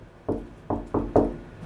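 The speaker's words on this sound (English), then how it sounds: "I'm going to knock on the window and see what it does." Four firm knocks on a household window pane, spaced unevenly over a couple of seconds, close and fairly loud with brief resonant decay and no voices.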